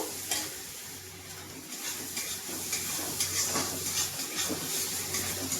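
Ginger and garlic paste fry in a hot pan while being stirred, a steady sizzle and hiss broken by the scrape and clink of the spoon against the pan, close and continuous.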